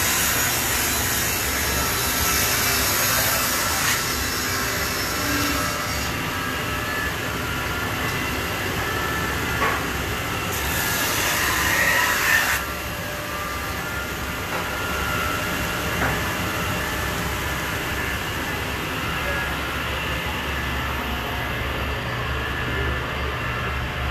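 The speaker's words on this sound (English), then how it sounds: "These are all different types of belt sanders." Several belt sanders grinding the edges of custom wooden chair backs in a furniture workshop, a continuous loud abrasive roar with surges where wood meets the belt, close and steady throughout.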